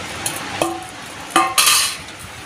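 Sago vada mixture being stirred by hand with cumin and salt, a few scraping and clinking knocks of a spoon against the bowl with quiet gaps between them, no voices.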